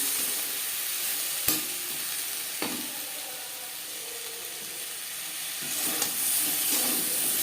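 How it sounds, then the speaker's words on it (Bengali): Tomatoes, green and ripe chillies and carrots frying in a pan, with a steady close sizzle as they are stirred and a few sharp knocks of the spoon against the pan. "পর দিয়ে দেবো টমেটো কাঁচা পাকা লঙ্কা গাজরের সাথে টমেটো বেশ ভালো করে মিক্স করে দেবো"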